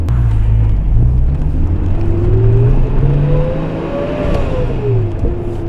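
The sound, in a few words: right-hand drive car engine accelerating while driving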